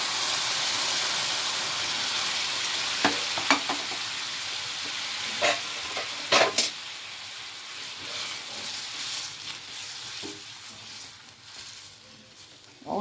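Green mung dal frying with green chilies in a pan: a steady high hiss and sizzle with occasional stirring scrapes and clatters, close and alone.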